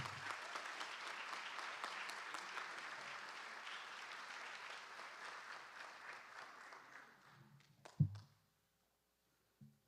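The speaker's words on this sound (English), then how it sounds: "So let's give them another round of applause." Applause from the audience at a school board meeting, thick and steady at first, then thinning out and fading before a single thump and silence.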